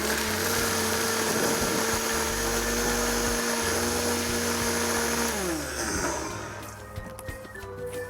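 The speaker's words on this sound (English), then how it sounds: "We're gonna actually puree down the onions as well." A blender purees onions with a loud, steady motor whine that shifts pitch partway through, then winds down and stops, leaving faint clatter.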